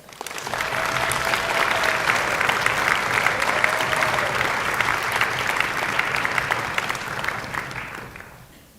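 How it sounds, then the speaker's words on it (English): Audience applause at a university symphony orchestra's spring concert, a dense, steady wash of clapping that holds loud for about eight seconds before tapering off at the end. "Please applaud both of those folks."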